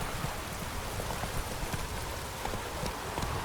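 Roach, the horse in The Witcher 3 video game, gallops with a steady, rapid clip-clop of hooves over a soft hiss like rain, close and continuous throughout.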